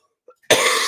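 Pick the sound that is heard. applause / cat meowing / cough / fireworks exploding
cough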